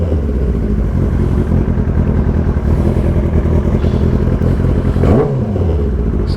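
A Kawasaki ZX-10R superbike with aftermarket exhaust rumbles loudly up close, with a throaty idle and a quick rev blip toward the end.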